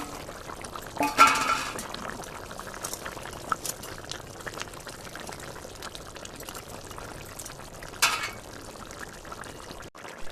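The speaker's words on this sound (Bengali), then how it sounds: "মাছ দিয়ে 5 মিনিট ফুটিয়ে নিয়েছি" Fish curry with fried tilapia and lotus taro stems simmers in a pot, spiced with coriander, cumin and chilli powder: a soft, steady bubbling throughout, with a couple of brief louder splashy bursts near the start and later.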